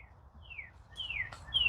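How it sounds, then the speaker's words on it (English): Birds in a wooded riverside park give several clear, high whistled chirps and sliding tweets, fairly close, over a soft low background rumble. "these are wooded here where you hear the birds them chirping"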